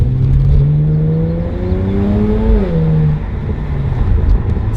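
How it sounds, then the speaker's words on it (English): A BMW N54 335i with an M-Sport exhaust revs loudly, its engine note climbing steadily and then falling back to a deep idle burble, up close and alone. "You can actually hear your car roar now."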